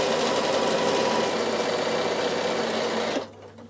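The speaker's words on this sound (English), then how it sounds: "Turn, stitch across the top." A Bernina sewing machine stitches fabric for a quilt clip in one loud, continuous, close run, stopping abruptly near the end and leaving a quiet hum.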